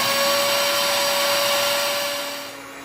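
A blender whirs loudly and steadily as it purées a pibil marinade with tequila, then winds down near the end of the short burst. No voices are heard.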